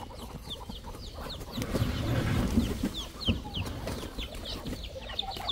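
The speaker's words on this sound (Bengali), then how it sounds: "মুরগি কটকট করতেছে খোয়ার থেকে বের হওয়ার জন্য" Chickens and ducks cluck repeatedly in short, busy bursts from inside their coop, with other birds chirping around them and steady low rumbling underneath.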